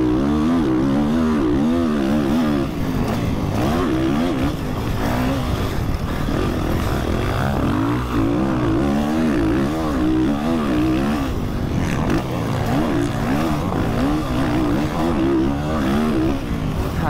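Quad engines in an MX vs ATV video game race, a loud continuous buzzing roar with rising and falling revs as the throttle is worked, close and constant throughout.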